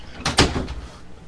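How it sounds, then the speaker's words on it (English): In PUBG played on Xbox One X, a door is shut with two quick thuds in close succession, moderately loud against quiet background. "Shut my door."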